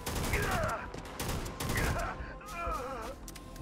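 Bursts of heavy weapon fire in the video game Starfield, repeated in quick volleys, with the player speaking over them.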